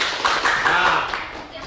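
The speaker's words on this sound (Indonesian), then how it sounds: "tepuk tangan dulu untuk teman-teman." Classmates in a school classroom lesson clap together in a short burst of hand claps, fairly close, with talking mixed in.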